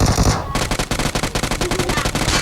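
Rapid automatic gunfire in a shooting video game, a fast rhythmic burst of about a dozen loud, close shots following a brief louder blast, with no talk over it.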